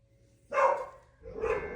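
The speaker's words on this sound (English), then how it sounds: "And there's my dogs." Dogs barking indoors in the distance, two muffled barks about a second apart, moderately faint with no speech over them.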